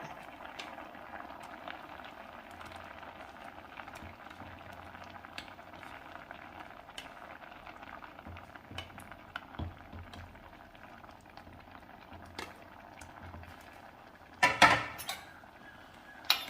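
Sardine and mango pulissery curry bubbling in a covered pot, a steady soft simmer throughout with faint clinks of utensils and a brief louder clatter near the end.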